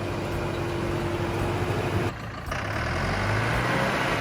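A 600-horsepower sugar beet haulage truck weighing up to 55,115 pounds, its engine a steady, droning rumble with a brief dip partway through, continuous and fairly close with no voices.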